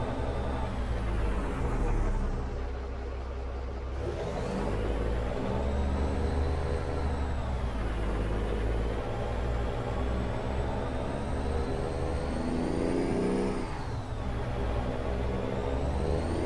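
Steady truck engine drone in American Truck Simulator, a low rumbling motor with whirring road noise and a brief air-brake hiss, continuous and fairly loud throughout with no talk.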